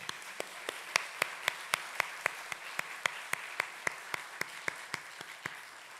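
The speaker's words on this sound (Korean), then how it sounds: "우리 하나님께 감사의 박수 한번 드릴까요?" Thanks offered to God in a church service, heard as sharp, evenly spaced claps in a steady rhythm, about three per second, fairly faint against a quiet room background.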